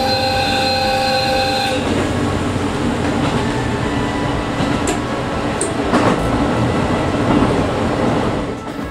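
The Limited Express Niseko runs on Hokkaido's mountain line, crossing the Shiribetsu River. A loud horn blast opens, then a continuous rumbling, rattling run of wheels on track fills the rest, with no talk.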